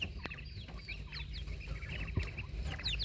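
Quails on a quail farm give a steady chatter of high chirps and calls over a low continuous hum, with many overlapping birds close by.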